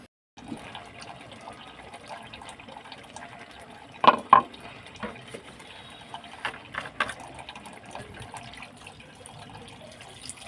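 Water is poured into a pan of sautéed kohlrabi and prawns, giving a quiet trickling fill with a few sharp splashes and clinks as the pan is handled.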